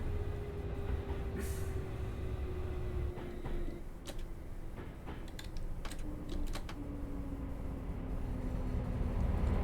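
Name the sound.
Class 350 train running in Train Simulator Classic video game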